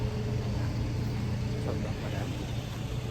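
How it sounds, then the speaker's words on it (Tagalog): Street traffic in Saudi Arabia, a continuous low rumble of many cars passing at a steady level, with a faint voice underneath. "Daming sasakyan dito guys."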